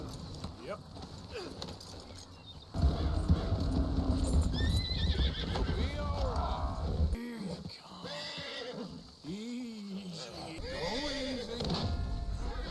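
Horses in the video game Red Dead Redemption 2 whinny and neigh repeatedly over clip-clopping hooves, with game ambience throughout and no clear talk over the sounds.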